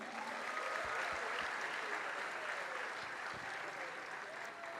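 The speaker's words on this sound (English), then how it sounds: "Let the applause go on" Audience applause in a hall, steady clapping from a crowd that carries on evenly throughout, heard from a moderate distance with no voices over it.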